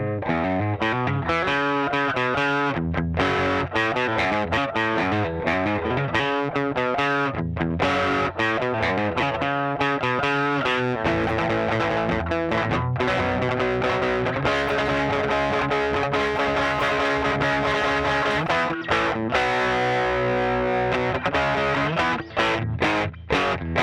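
Electric guitar fitted with a tone pod, played through a Fender amp with a Tube Screamer overdrive, giving sustained distorted chords and riffs that continue loud and dense throughout.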